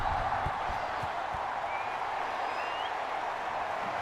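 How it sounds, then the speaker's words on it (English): A stadium crowd at a Baylor versus Ohio State Sugar Bowl playoff college football game roars in a steady, unbroken wash of noise, with a few faint low thumps near the start. "Crowd erupting here"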